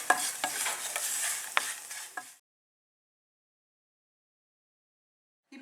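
Bread crumbs crisping in hot oil in a pan, a steady close sizzle with a few sharp stirring scrapes for about two seconds before cutting to silence.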